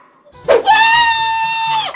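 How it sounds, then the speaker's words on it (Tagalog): A person lets out one sustained loud scream, a high strained shriek that holds for over a second before cutting off, following a brief breathy onset. "Oh, sumigaw ka na."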